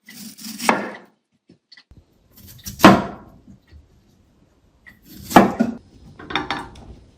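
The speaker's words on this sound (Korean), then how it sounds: "마늘 조금 두껍게 썰을게요." Thick garlic slices cut with a knife on a board, four distinct crisp chops spaced a second or two apart, close and clear with quiet gaps between.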